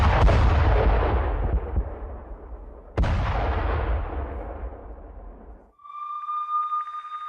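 Russian missile and FAB-500 bomb strikes hit Ukrainian army positions near Huliaipole: two heavy blasts three seconds apart, each with a long rumbling decay, followed by a steady tonal whine.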